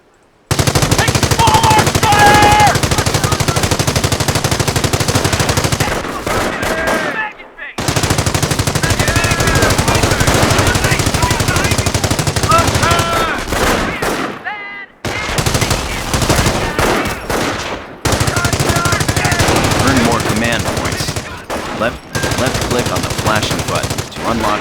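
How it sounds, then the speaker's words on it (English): Small arms fire from the Company of Heroes battle game: dense, continuous machine-gun bursts and rifle shots roar loudly for long stretches, broken by a few brief pauses. "Taking small arms fire!"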